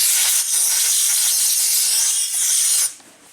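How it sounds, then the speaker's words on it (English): Compressed air blasts dirt off an Acura TSX car alternator, a loud, close, continuous hiss lasting nearly three seconds before cutting off abruptly, with no speech. "I guess we can blow it off with some compressed air for good measure."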